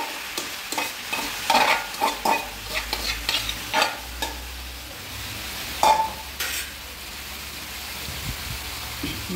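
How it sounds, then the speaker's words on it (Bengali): Boiled, chopped cabbage is stirred in a frying pan, a soft continuous sizzle broken by repeated scraping and clattering strokes of the spatula at an irregular rhythm, close and fairly quiet. "কেটে রাখা সেদ্ধ করে রাখা বাঁধাকপিটাও দিয়ে দেবো।"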